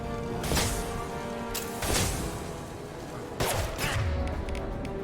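Gunfire in the video game Mass Effect 2 during a Krogan assault: a few sharp, loud shot bursts punch through a steady bed of combat noise and music, spaced irregularly across the moment.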